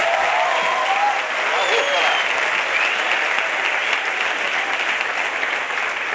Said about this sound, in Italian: Senti l'applauso della bussola!